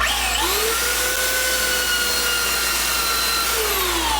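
A belt sander running a coarse 40-grit belt over live-edge white poplar, a steady loud whining drone with a high motor tone that shifts slightly as the pressure changes, with no talking.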